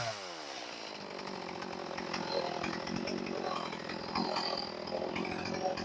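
A chainsaw runs while cutting a black locust limb, the engine note rising as it bites into the wood and staying loud and rough to the end.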